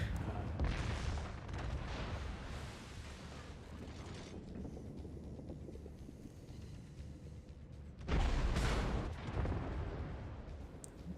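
Warship guns firing in a naval battle video game, with two heavy booming salvos near the start and near the end, each trailing into a long rumbling decay over steady engine and sea noise.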